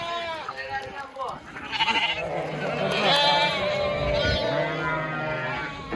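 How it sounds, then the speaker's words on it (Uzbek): A ram bleats loudly and repeatedly at close range, its wavering cries overlapping with people talking nearby. "Mana qo'chqor nima deyapti?"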